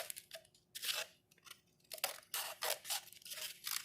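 Scissors snip through a plastic bottle to shape a fairing, a quiet, close sequence of crisp crunching cuts in irregular bursts of about a dozen snips.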